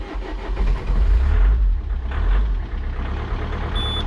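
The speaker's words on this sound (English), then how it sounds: "try to start the car" A car with a 2.0 HDI diesel engine cranks and fires up after a fuel filter replacement, a loud close rumble that settles into a steady low idle, with no talk.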